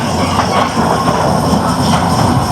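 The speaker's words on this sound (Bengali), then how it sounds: "ট্রেনটা ছাড়া হলো এখন" An amusement train ride at a children's fair in Wonderland, Shyamoli, Dhaka, pulls away with a loud, steady rumble and rattling clatter of wheels and cars, close and continuous throughout.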